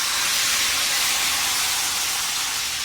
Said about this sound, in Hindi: तड़का हमारा हो गया है रेडी, तो दाल के ऊपर इसको डालते हैं